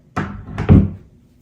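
A door swinging shut at home, two quick thuds about half a second apart, the second heavier, close by and with no voices.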